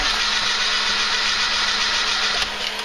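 A car engine running on LPG gas is cranked in winter with the clutch held down, producing a loud, continuous, close-up mechanical churn for nearly three seconds that stops without catching. No voices are heard.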